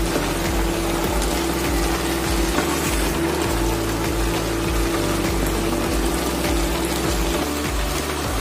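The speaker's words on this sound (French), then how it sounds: "C'est en train de bien mijoter là." Water simmering in a covered pan with shrimp fried rice ingredients and a little salt, a steady close bubbling hiss with a low rhythmic rumble running throughout.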